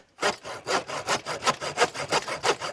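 Hand saw cutting through wood outdoors in rural Ireland, a dozen or so rapid rasping strokes in a steady back-and-forth rhythm, loud and close with no talking.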